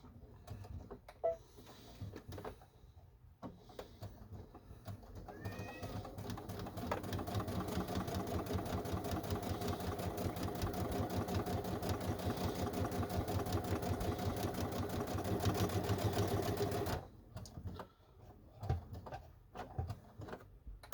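Sewing machine stitching a pocket on a Los Angeles Dodgers inspired WhHIPpersnapper, running in a steady, continuous whir for about ten seconds, with brief starts and stops around it.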